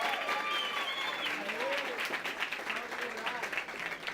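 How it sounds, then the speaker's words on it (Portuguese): Steady applause from an audience at a panel on political participation through social media, dense clapping fairly close with some voices mixed in, sustained throughout. "Palmas para Isadora."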